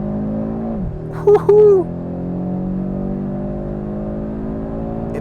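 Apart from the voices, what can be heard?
Audi RS3 2.5 liter 5-cylinder engine revving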